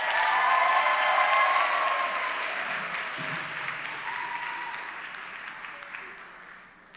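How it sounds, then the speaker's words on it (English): An audience applauds as an R&B ensemble takes the stage at an event on Black artistic expression, loud sustained clapping that gradually fades over several seconds, with a voice faintly heard beneath it. "So please welcome them with a huge round of applause."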